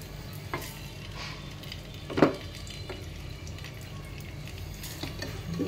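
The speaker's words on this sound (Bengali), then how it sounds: "এটা তেলের মধ্যে ভাজবো।" Black mustard seeds and green chillies fry in oil for a vegetarian bottle gourd dish, giving a soft, steady sizzle with a brief clatter of a utensil near the middle and a few faint stirring taps.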